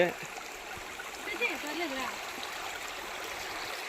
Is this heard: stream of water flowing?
yes